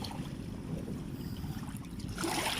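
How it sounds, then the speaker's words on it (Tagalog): Strong waves during heavy rain hitting the Mega Dike in Malabon City, a constant rough wash and rumble of water, loud and close, with a heavier splash surging near the end, no talk. "malakas po yung alon at inaabot po yung papo namin dito mga boss"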